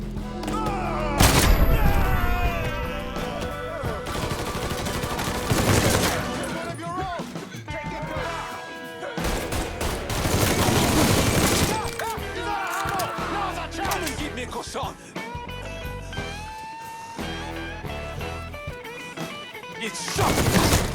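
Gunfire in the video game Mafia III, with repeated bursts of shots and booming blasts spread across the scene, heard under frequent shouting voices.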